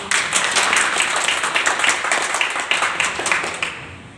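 An audience at a meeting claps together in a loud, dense burst of applause that holds steady for several seconds before cutting off abruptly.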